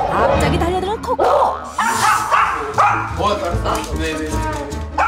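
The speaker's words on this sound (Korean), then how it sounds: "단단히 화가 난 듯 짖기 시작하는데" An angry dog lunges at a woman lying on the floor and barks in repeated sharp, loud bursts, close by, mixed with people talking over it.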